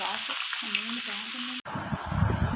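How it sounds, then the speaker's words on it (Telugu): A whole fish fries on a flat pan, giving a constant hissing sizzle with a voice talking over it. Partway through, the sound cuts abruptly to a rougher, bubbling sizzle. "ఇలా పెనం మీద కాల్చుకోవాలి బోత్ సైడ్స్ అనేవి చూడండి"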